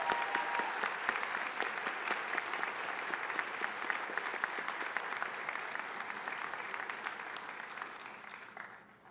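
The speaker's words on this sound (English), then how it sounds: "as well as our bagpiper, Kathy Boyer, a round of applause for their wonderful music this morning." A large audience applauds at the 2024 Bridgewater College commencement after the symphonic band and bagpiper perform, with sustained, even clapping filling the hall for about nine seconds before tapering off.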